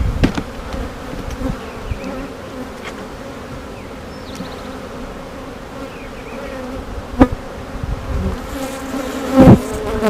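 Honeybees buzz steadily around an open hive while brood frames are lifted and swapped during an inspection, a continuous close drone with a few brief knocks and rustles from handling the frames, and no voices.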